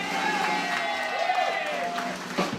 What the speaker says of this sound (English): Why don't you put a big round of applause together for Melody Rose?